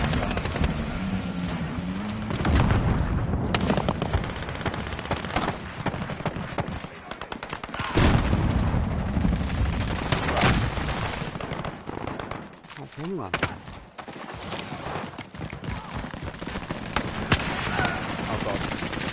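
A mounted machine gun fires in the video game Warzone, its loud, dense bursts of gunfire running almost continuously amid other battle noise, with voices talking over it.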